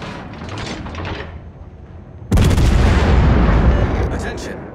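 Warship guns fire in World of Warships: a sudden, massive boom lands midway and rolls into a sustained loud rumble, following a quieter stretch of softer distant gunfire and rumbling.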